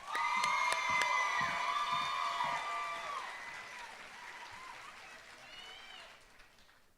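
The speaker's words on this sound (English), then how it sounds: "Let's give this group another round of applause." A school audience at a district celebration event claps and cheers for a high school group, with whoops and high-pitched shouting on top. The applause starts loud with sharp whistles and gradually fades.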